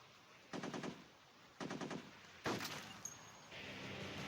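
Gunfire in the Modern Sniper mobile shooter game: three separate bursts of rapid, rattling shots spaced about a second apart, each sharp and loud against a quiet background, followed by a softer mechanical whir and hiss.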